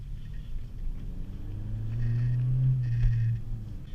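A modified 2017 Honda Civic Si with a KTuner, PRL cold air intake, PRL intercooler and E30 fuel blend accelerates on a canyon road, a steady mid-pitched engine drone rising in pitch as revs climb, heard from inside the car.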